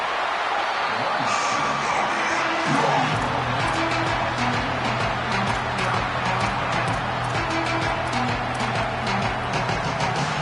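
A packed stadium crowd at an Auburn versus Florida State college football game gives off a loud, continuous roar, with the cheering swelling steadily throughout.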